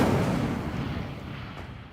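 A fire spell, Incendio, is cast in the game Hogwarts Legacy: one loud, rushing fiery burst that starts at full strength and fades slowly over about two seconds, with no talk.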